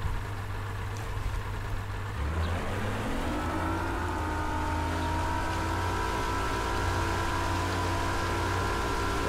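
A bass boat engine in the game Bassmaster Fishing 2022 drones steadily while driving, its pitch rising after a couple of seconds as it speeds up and then holding an even, continuous hum.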